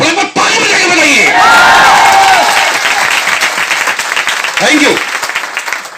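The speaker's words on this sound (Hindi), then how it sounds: "थोड़ा ताली बजा के बताइए।" A crowd at a direct-selling business talk claps loudly and cheers with whoops and shouts, the applause holding steady and then thinning out, with a speaker briefly talking at the end.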